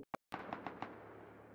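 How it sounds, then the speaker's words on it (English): A grenade detonating in a video game: two sharp bangs, then a burst followed by three quick popping echoes that fade into a low rumble. "I hear a grenade"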